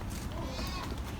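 Goats on a livestock farm bleat amid a noisy outdoor mix of people talking and general crowd sound.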